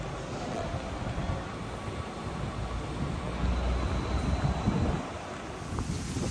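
Ocean surf rolls in at a Hawaiian resort beach, a broad, continuous wash of waves mixed with wind rumbling against the microphone, with no voices standing out.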